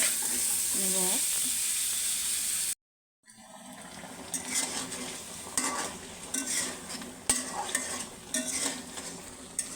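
Fish and mashed potato are stirred in a hot pan for Bogura-style alughata. A steady sizzle cuts out briefly, then irregular spatula scrapes and clinks follow close by over continued frying.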